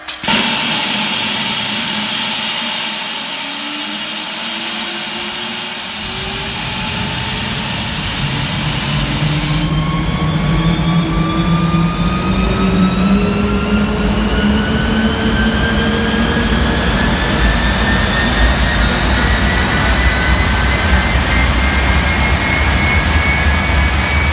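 The jet engine of the Bluebird K7 hydroplane starts up: a rising whine climbs steadily in pitch, joined by a growing roar that swells into a loud, sustained spool-up lasting over twenty seconds.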